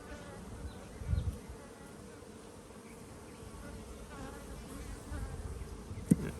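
Honeybees buzz around an open hive while frames are handled in an apiary, a dense steady drone close by with a few soft bumps and knocks of the frames and no talking.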